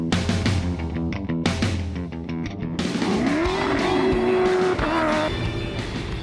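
Rally cars race at Rally dos Sertões across extreme terrain, with loud engines revving and rising in pitch against a dense roar, and music or commentary mixed in.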